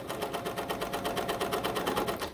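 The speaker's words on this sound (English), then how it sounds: "So then you'll stitch." A coverstitch sewing machine runs steadily, stitching along the edge of two pieces of fabric in a fast, even rhythm of close, clear mechanical pulses with no talking.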